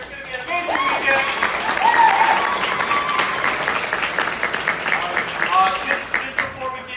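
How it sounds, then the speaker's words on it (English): Convention crowd at an anime fan weekend breaks into sustained applause, with scattered cheers and voices mixed in over about seven seconds. "Give yourselves a round of applause for being here."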